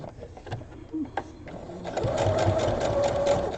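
A sewing machine stitches a drawstring bag around curves, a steady mechanical whir that starts with short stops and pauses, then runs continuously and louder, close by.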